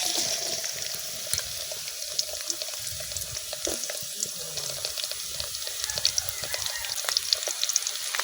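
Ingredients go into lightly heated oil in a karai on a village clay stove while making beef balachao. A dense, continuous crackling hiss carries on with small irregular pops and no talking.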